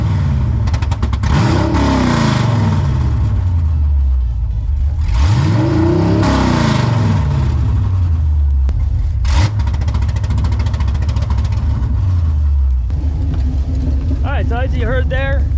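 An LS-swapped Ford Mustang engine revs repeatedly against two-step launch control, several rising and falling sweeps with a sharp crackle near the middle, loud and close, then settling to idle; someone talks over parts of it.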